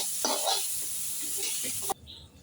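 Leafy greens with coriander leaves sizzle steadily in a pan, a soft continuous frying hiss with a few stirring scrapes, ending abruptly.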